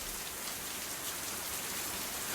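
Steady, dense rainfall hisses evenly on surfaces in an anime episode, a constant wash of close drops with no voices.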